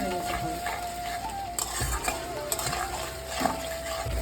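Egg masala curry with yogurt being stirred in a pan over lowered flame, a steady sizzle with scraping spoon strokes and occasional clinks, close and continuous with no talking.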